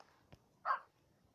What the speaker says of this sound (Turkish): Yanlışlıkla köpeklerimi dövüyorum.